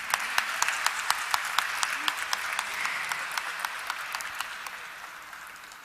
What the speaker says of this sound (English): Why we are not clapping?